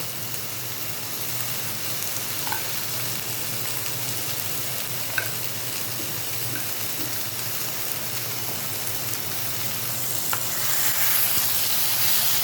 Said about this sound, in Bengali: এবার পুরোটা ভালো করে মশলাগুলো কচুর শাকের সাথে মিশিয়ে দেব।